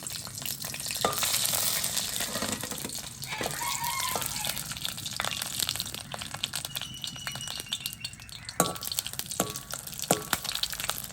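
Dried red chillies fry in a little oil for an ivy gourd and coriander leaf sambal, giving a steady broadband sizzle with crackling pops and faint utensil clinks, no voices.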